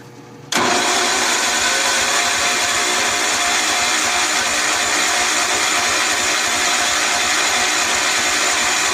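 A John Deere 140 H1 garden tractor engine catches after choking and cranking, bursting abruptly to life and settling into a loud, steady running drone close by.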